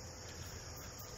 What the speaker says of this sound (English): appreciating the sound of the crickets